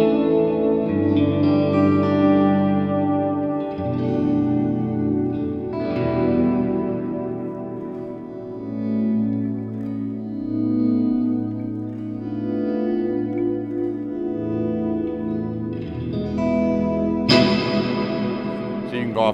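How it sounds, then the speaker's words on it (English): A JHS 3 Series reverb pedal set for atmospheric, outer-space tones spreads a long wash over slowly changing guitar chords, each blooming and trailing into the next, with a bright strummed chord near the end. "we do have the range on the decay control and the reverb level to get into some pretty big,"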